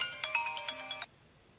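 A phone ringtone plays a quick, bright electronic melody of repeated tones for about a second, then cuts off into quiet room tone.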